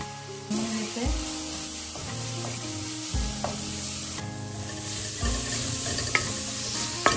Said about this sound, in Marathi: लसूण मिरचीचं ते वाटण चांगलं तेलामध्ये परतलं गेलंय